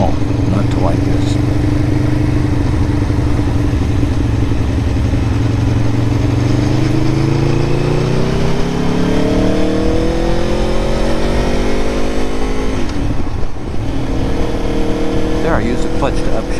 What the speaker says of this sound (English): I use the clutch to upshift there, just for fun. And we'll auto blip her down.